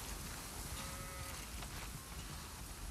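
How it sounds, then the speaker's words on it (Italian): Sheep bleat in The Last of Us Part II, a few brief calls rising over a steady, noisy ambient game background at moderate distance, with no talk. "Abbiamo decisamente troppe pecore."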